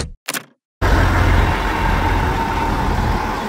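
A truck, a large Volvo 540, passes on a rural road near farms, a loud sustained engine and road roar arriving abruptly and staying heavy at close range after brief quiet.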